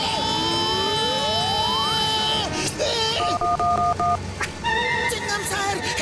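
A public telephone is dialed in a cartoon, a quick run of beeping keypad tones over busy music and sound effects.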